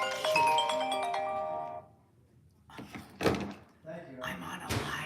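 A phone ringtone plays a bright, tonal melody up close for about two seconds, then stops as people talk and thumping movement noises follow.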